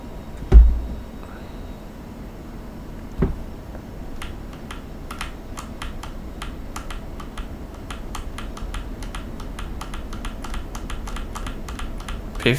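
Keys clatter on a computer keyboard while the DCS F-16C Viper flight simulator is being flown, starting with a few sharp isolated taps and building to a steady run of crisp, rapid keystrokes.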